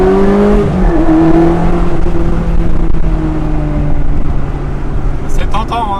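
A Ferrari accelerating hard on the banked speed ring at Autodrome de Montlhéry, its engine and exhaust droning loudly with rising and shifting pitch, heard from inside the car while people talk over it.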